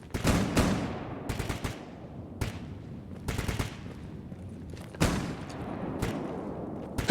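Repeated bursts of gunfire in S.T.A.L.K.E.R. Gamma, short clusters of sharp shots separated by quieter gaps, each burst decaying with echo, fairly close and loud.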